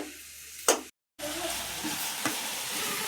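Vegetable curry with tomatoes frying in a pan and being stirred: a steady loud sizzle with a few scraping stirs, broken by a brief cut to silence.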